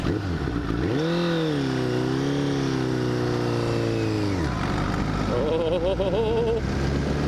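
A manual car held in sixth, its top gear, drones steadily with a smooth, close engine note that holds pitch for several seconds, then drops away; a voice speaks briefly toward the end.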